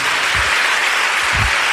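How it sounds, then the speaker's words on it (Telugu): A church congregation claps together in praise of God, a dense, steady wash of applause filling the space with no speech over it. "అందరు చప్పట్లు కొట్టి దేవుని మహిమపరుస్తాం"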